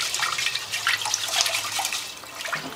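Water runs from a tap into a sink as rice is rinsed, a close, continuous splashing and trickling stream for a few seconds with no talking.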